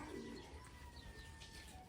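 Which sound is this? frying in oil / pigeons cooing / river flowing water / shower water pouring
pigeons cooing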